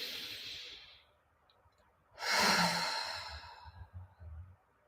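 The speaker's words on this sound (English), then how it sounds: "Let's take another deep breath in." A slow, deep breath during a guided relaxation session: a soft airy inhale fades over the first second, then after a pause a louder rushing exhale swells and trails off into quiet, close and alone with no talking.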